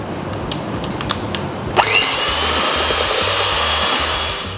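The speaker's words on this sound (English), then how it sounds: "I'm placing it on top of the ice bowl and I'll start whisking it." Electric mixer whisking 500 ml of fresh cream in a bowl set over ice, starting with a click and a rising whir and then settling into a steady, close motor drone.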